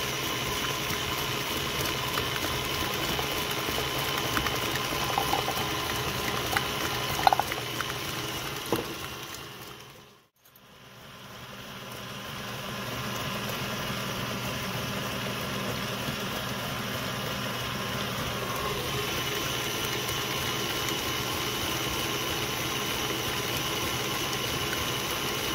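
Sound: stand mixer beating eggs and sugar

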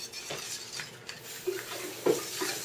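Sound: stirring sugar into eggs

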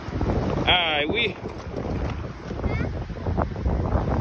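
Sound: wind blowing on microphone

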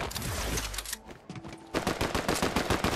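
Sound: gunshots in the video game Fortnite

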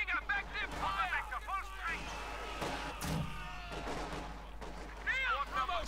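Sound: gunfire in the video game Company of Heroes 2

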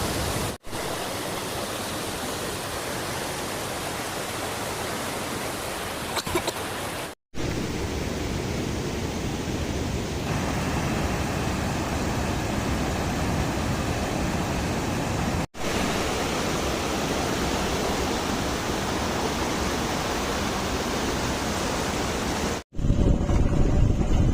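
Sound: Somnath waterfall flowing

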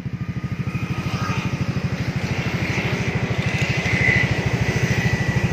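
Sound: Yamaha NMAX motorcycle with bored-out stock exhaust running

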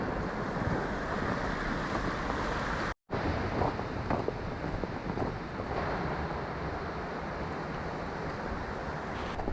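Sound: wind blowing snow off tree branches on mountain

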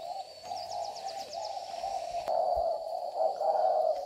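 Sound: spotted dove (cu gáy) cooing in a cage

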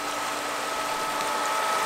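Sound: pool filter pump running

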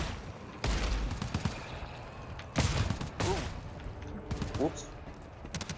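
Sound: gunshots in the video game GTFO

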